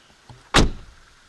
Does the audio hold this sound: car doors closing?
yes